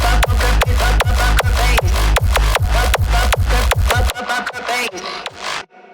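A distorted vocal chopped from Lady Gaga's Poker Face rides over a pounding hardstyle kick in a fast, dense loop, loud and gritty, before the kick drops out and the processed vocal sputters and fades.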